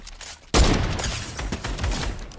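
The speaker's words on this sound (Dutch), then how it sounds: "ik hoor daar schoten" Gunfire in an online shooter game erupts after a short pause as a loud burst of rapid shots, continuing in a dense, crackling volley with no speech.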